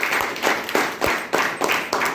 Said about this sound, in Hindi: प्लीज ताली बजाएं।